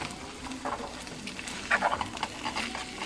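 Corned beef breakfast gets stirred in a pan, giving soft irregular scraping and wet pattering sounds with a faint sizzle, fairly close and quiet, with no talking.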